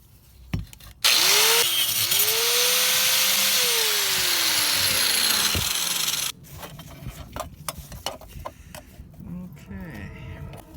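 A power cutter grinds through a screw on a BMW E-series headlight during an LED swap, a loud sustained whine with a pitch that rises, then sags for about five seconds before cutting out, followed by quieter clatter.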